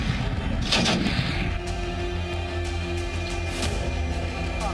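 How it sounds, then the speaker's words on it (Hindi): A blast inside an airbase booms out as a sharp, heavy explosion near the start, followed by rumbling, echoing reports over a noisy background. "एयरबेस के अंदर धमाका हुआ, ये देखो अभी।"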